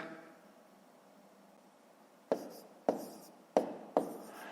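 A pen writing numbers on paper during a column multiplication sum, heard as four sharp strokes after a stretch of near silence, close and clear with no one speaking.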